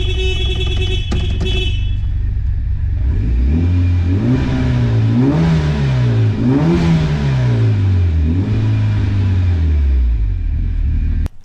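Engine of a homemade Evo Wagon on its first test drive, revving loudly and close in several rising and falling surges over a steady rumbling idle, with a horn-like tone sounding briefly at the start.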